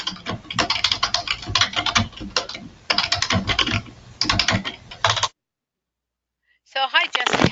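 Rapid, close clatter of typing on a computer keyboard in bursts of keystrokes, with short pauses and a brief dead-silent gap near the end, over a faint low hum from an open call microphone.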